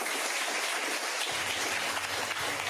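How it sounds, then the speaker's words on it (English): Town hall audience applauding a senator, a dense, steady wash of clapping that carries on without a break. "Give him a round of applause"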